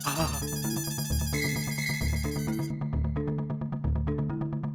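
A phone ringtone plays in a repeating melodic pattern, loud and steady, with a rhythmic beat cycling through the whole few seconds.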